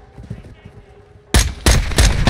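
Rapid bursts of automatic gunfire from Call of Duty: Modern Warfare II, loud and close, start abruptly after a quieter stretch of game sounds and faint voice chat, then continue in two or three dense volleys.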